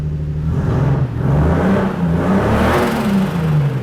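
A Toyota 2JZ engine swapped into a 1991 Mercedes-Benz SL500 revs up and down nearby, a loud throaty roar rising and falling in pitch over a few seconds.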